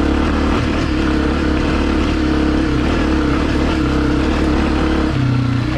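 Honda CRF250F dirt bike on a trail, engine lugging low in third gear with a loud, continuous throbbing rumble that deepens slightly toward the end, no voices.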